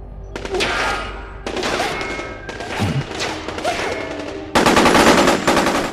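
Soldiers in the Metal Gear Solid Portable Ops video game fire weapons at a Metal Gear: loud bursts of rapid automatic gunfire in several separate volleys, with thuds and impacts, the last burst the loudest.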